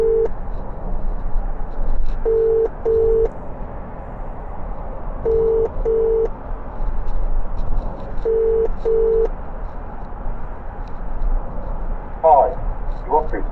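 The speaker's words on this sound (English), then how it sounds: "I would call Dave if he'd answer the phone" A phone ringback tone repeats in paired beeps, four rounds at steady intervals, heard through a car's hands-free system with road rumble underneath.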